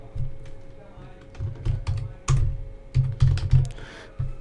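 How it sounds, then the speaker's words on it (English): Text is typed on a computer keyboard in close, clear bursts of key clicks, with irregular short runs of strokes separated by brief pauses and no talking over them. "here you will type the text which you want to add."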